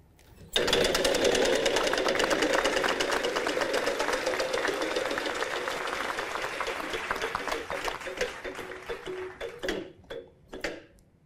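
Game show prize wheel spinning, a rapid stream of close ticking clicks that gradually slows and spaces out into separate ticks as the wheel comes to rest.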